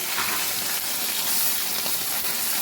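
Fish frying in hot oil in a home kitchen, a steady close, loud broadband sizzle and crackle throughout with no talking.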